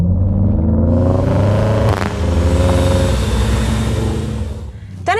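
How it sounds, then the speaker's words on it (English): A 2019 BMW X5 40i six-cylinder petrol engine with 340 horsepower and M Sport exhaust revs up, a loud, close, smooth rumbling growl that builds, briefly drops off, then settles into a deep steady drone before fading. "The smooth sound of the 40i six-cylinder petrol engine with 340 horsepower and M Sport exhaust system."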